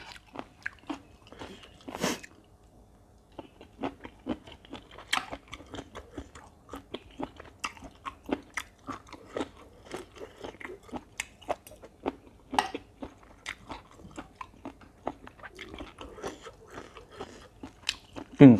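Someone eats spicy Thai cucumber salad with squid up close, with repeated crunchy bites and wet chewing in an irregular rhythm and brief pauses.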